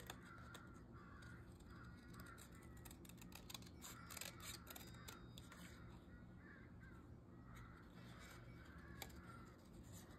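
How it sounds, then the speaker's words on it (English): Several crows caw harshly and squabble with one another, their overlapping calls repeating steadily but faint and distant, with no talking. "Those crows don't sound like they're having a good time."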